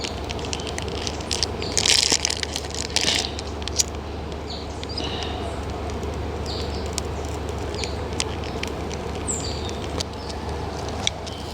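A crackers bag is crumpled to kindle a wood fire outdoors, giving bursts of crinkling crackle near the start over a steady background hiss and scattered faint ticks.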